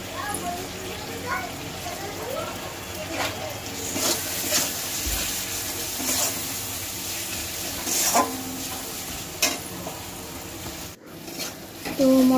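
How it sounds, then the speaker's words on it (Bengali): Spice paste with ginger-garlic paste stir-fried in a pan, a steady sizzle broken by spoon scrapes, with a voice talking over it. "আদা রসুনের পেস্টটাকে দিয়ে ভালো করে মশলাটাকে একটু নেড়ে নেব"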